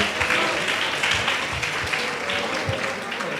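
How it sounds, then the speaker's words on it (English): Students in a classroom or hall clap during a school talk on cannabis, a moderate round of applause with some voices and background murmur running underneath. "Please clap your hand for 12D"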